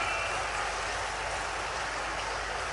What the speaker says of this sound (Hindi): तालियां हम सभी की ओर से बेशुमार होना चाहिए